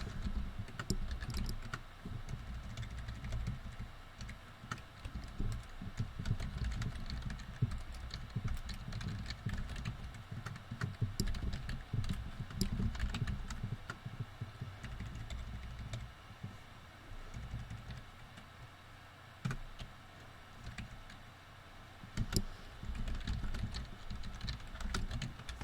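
Computer keyboard typing as guest names are entered into a Microsoft Access 2010 table, a steady run of soft clicking keystrokes that continues throughout, close and moderately quiet.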